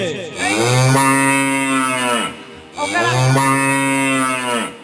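A buffalo moos twice at close range, each call a long, loud, drawn-out low bellow lasting about two seconds, with a short pause between them and no talk.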